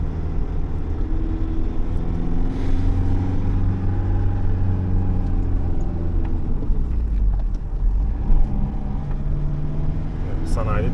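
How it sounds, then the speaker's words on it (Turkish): A Mercedes Sprinter van on a test drive after servicing, with a steady low engine rumble and road noise from inside the cab, gear and speed shifts audible, while someone talks over it. "Bir deneme sürüşüne çıktım."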